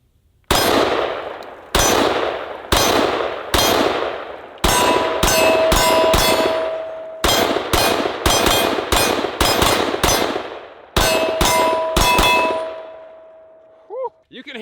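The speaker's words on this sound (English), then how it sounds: "Let's hit some steel targets" A Steyr AUG rifle fires full-power 5.56 rounds at steel targets outdoors: a string of about twenty sharp, loud reports, some in quick doubles and triples, each followed by a ringing metallic clang from the struck steel.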